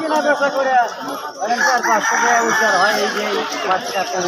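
Many chickens cluck and squawk together in a noisy crowd at a village market in Dhunat, with a rooster crowing and people talking among them.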